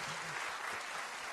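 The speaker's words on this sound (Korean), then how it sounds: "네, 박수까지 조금 더 해주셨으면 좋겠네요." Brief, steady applause from a church congregation at an evening service, a continuous wash of clapping with a faint voice underneath.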